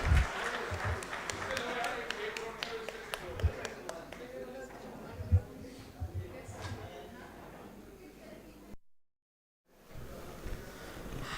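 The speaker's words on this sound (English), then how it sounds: "Please give a huge round of applause as the minister proceeds from the venue." Audience applause at a centenary alumni meet as the minister leaves the venue, a spread of claps under a steady murmur of talk, cutting to brief silence before resuming.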